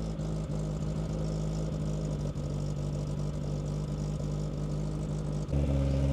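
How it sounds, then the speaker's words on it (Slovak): A Suzuki Samurai engine runs steadily on choke, a loud, even idle that holds through nearly the whole stretch before the pitch shifts slightly up at the end, with no talking. "Chvíľu mu dáme beh so sytičom"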